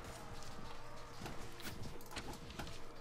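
Horse hooves clip-clopping during a medieval battle in the video game AD1257, a continuous patter of overlapping hoofbeats mixed with battlefield bustle at a moderate, even level.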